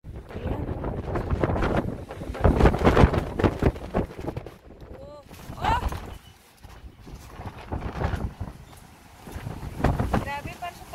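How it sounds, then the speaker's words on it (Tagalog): Strong gusts of wind during a sudden afternoon storm in Lebanon, roaring and buffeting the microphone in surging waves, with a person talking excitedly over it. "Ang lakas ng hangin."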